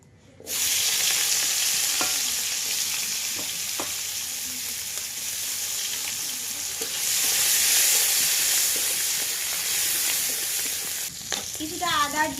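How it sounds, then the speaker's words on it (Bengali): Chopped onion and garlic frying in oil in a kadai for a country duck and new potato curry: a loud, steady sizzle with a few clicks of stirring. "কিছু পেঁয়াজ কুচি আর একটু রসুন রেখেছিলাম সেগুলো তেলে দিয়ে দেবো"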